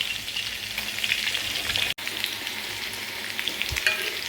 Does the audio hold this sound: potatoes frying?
yes